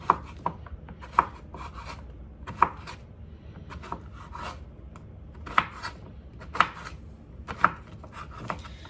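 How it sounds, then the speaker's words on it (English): A knife chopping vegetables into half-moon slices on a cutting board, with sharp, close knocks at a loose, irregular pace and quiet rubbing in between. "I just cut these in half lengthwise and then half moon circles"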